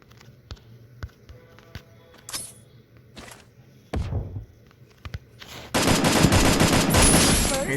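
Gunfire in the Free Fire video game, including a headshot: scattered sharp single shots and taps, then a sustained loud burst of rapid automatic fire near the end.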